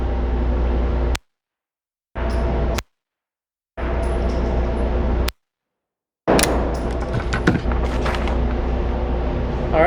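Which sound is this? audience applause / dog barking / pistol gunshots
pistol gunshots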